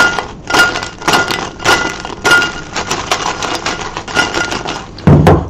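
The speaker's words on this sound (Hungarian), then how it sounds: "De akkor csak megrázom itt a tepsiben, hallgassák meg. Ez valóban csodás ropogós lett." Crispy homemade chicken nuggets shaken in a baking tray, giving a loud run of rattling, clattering crunchy knocks in irregular bursts, close and dry, ending in a heavier thud.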